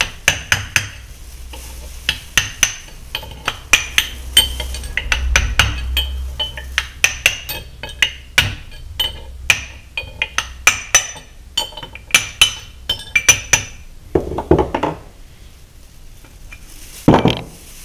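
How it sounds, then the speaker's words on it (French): Repeated sharp metallic taps of a bronze, aluminium or wood mallet on a spiral gear crown of a milling machine dividing head, an irregular series of close, ringing knocks with brief pauses and a few louder blows near the end. "on tape toujours avec bronze, alu, bois, ce que vous voulez, mais pas d'acier"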